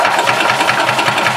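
A 1991 Yamaha G8 gas golf cart engine cranks and turns over with a loud, dense, rattling mechanical whir, steady and close with no talk.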